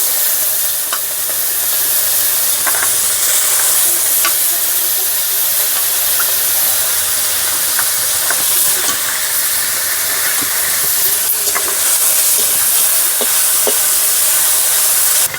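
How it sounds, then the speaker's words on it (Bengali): Salted, turmeric-coated prawns fry in a little hot oil, producing a loud, constant close sizzle with scattered pops and crackles throughout. "তেল দিয়ে চিংড়ি মাছটা ভেজে নেবো, অল্প তেল দিয়ে।"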